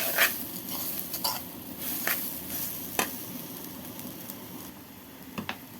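Rice is stirred in a pan with a utensil while cooking, with chicken also being prepared for breakfast. Soft, faint scrapes and light clinks repeat irregularly over a quiet background sizzle.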